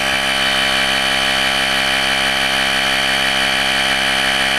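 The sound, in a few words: portable air compressor running in a car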